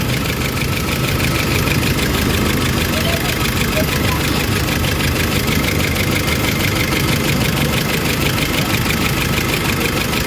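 Diesel engine of a Nissan Navara with low power and fuel knocking idles roughly and continuously, a loud steady rumble with uneven ticking, while someone talks over it.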